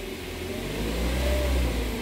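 A Toyota Avanza Veloz engine, in standard condition, revved lightly, rising from a low steady hum to a gentle, smooth climb in pitch, close and alone without talking.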